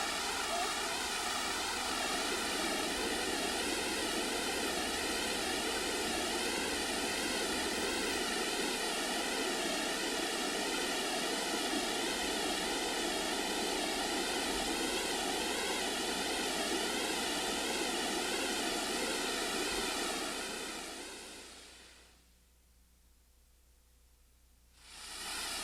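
Big Deep Ford Falls, a waterfall beside a deep crevice in Transylvania County, North Carolina, roars as a steady broadband rush of falling water, loud and continuous before dropping away briefly near the end.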